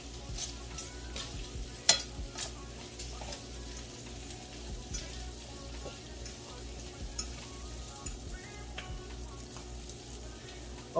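Shrimp sizzling in a frying pan, a soft steady crackle and hiss with occasional stirring clinks and scrapes, fairly quiet with no talk.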